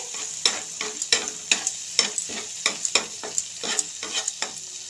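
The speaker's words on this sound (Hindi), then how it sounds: "इसके ऊपर थोड़ा सा पाव भाजी मसाला डालेंगे मिला लेंगे अच्छे से" Pav bhaji masala being stirred into bhaji in a frying pan, a rhythmic series of spoon scrapes and slaps about twice a second over a steady sizzle, close and clear with no talking.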